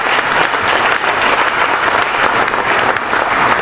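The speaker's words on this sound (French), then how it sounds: "Je vous demande s'il vous plaît d'applaudir" A Cameroonian audience at a football Ballon d'Or award ceremony bursts into loud, sustained applause for the head of the CNPS, a dense wall of clapping that stays strong throughout.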